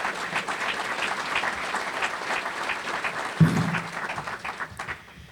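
An audience applauds the city council during a State of the City address in Paramount, a steady wash of many hands clapping that fills the room, with a brief low thump partway through before the applause tapers off.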